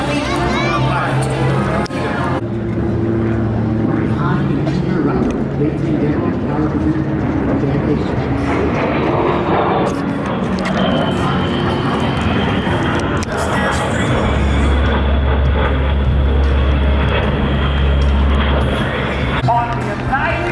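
An aerobatic airplane flies at an air show on Long Island. A loud, steady engine roar fills the whole stretch, with a whine that shifts in pitch. It carries over a crowd and announcer speech.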